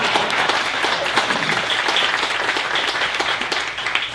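An audience applauding at a city State of the City event, steady dense clapping sustained throughout at fairly close range, with faint voices mixed underneath.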